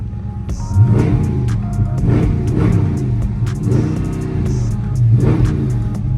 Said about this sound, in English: Just for the sake of science, I'm gonna give it some revs.